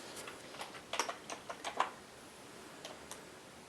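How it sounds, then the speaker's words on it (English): Random keys are tapped on a compact USB keyboard: a quick burst of light, close plastic clicks, then a couple of scattered taps over faint background hiss. "And I am just hitting random keys there."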